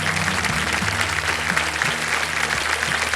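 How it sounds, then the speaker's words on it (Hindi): Studio audience applause fills the set of the KBC quiz show after a contestant quits with 6,40,000 rupees, steady, dense clapping at full volume for the whole stretch, with a faint low musical drone beneath. "तालियां बज जाए इनके लिए।"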